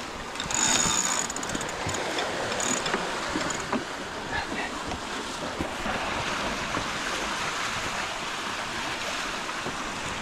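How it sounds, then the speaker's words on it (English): Strong wind and waves at sea during a sailboat race, with gusty wind buffeting the microphone over a continuous rush of water against the hull, loud and steady throughout. "Really, Walter shouldn't be out here alone in this wind"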